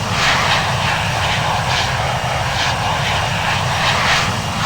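Steady, loud roar of airplane engines at takeoff power in the flight simulator Infinite Flight, a constant broad rush with a faint rhythmic pulsing and no voices.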